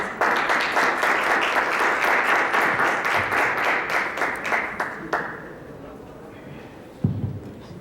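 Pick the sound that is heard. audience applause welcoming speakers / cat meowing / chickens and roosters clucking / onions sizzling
audience applause welcoming speakers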